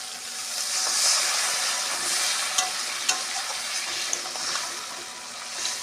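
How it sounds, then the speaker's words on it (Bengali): Water poured into a fried fish curry (bhola fish with taro stems) cooking in a pan, giving a continuous sizzling hiss and bubbling with a few sharp utensil clicks, no talk. "কষানো হয়ে গেছে পরিমাণ মতন জল দেবে"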